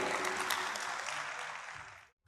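An audience at a learning and earning festival applauds to welcome the next speaker, a broad sustained wash of clapping that fades and stops abruptly near the end.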